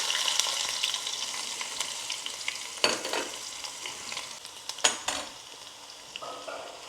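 Onions sizzle and crackle in hot oil with mustard seeds for a Kerala-style dry fish curry, a close and constant frying hiss. A spoon scrapes and stirs the pan, giving occasional louder clatters.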